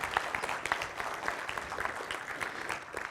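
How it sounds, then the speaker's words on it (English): Audience applause at a C++ programming conference as a speaker takes the stage, a moderate steady patter of many hands clapping in a hall, fairly distant and even throughout. "Big applause."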